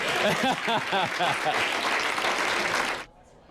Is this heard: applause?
yes